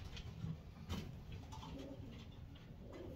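Pigeons or doves cooing softly, low murmuring calls repeating faintly against quiet background noise.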